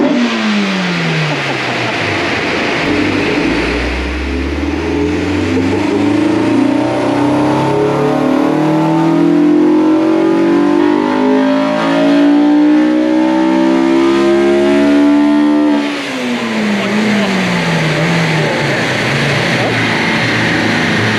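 A stock Honda S2000 engine on a dyno revs hard through a long sweeping climb, its harmonics rising steadily to a high-pitched scream. It cuts off abruptly and then winds down, loud and close.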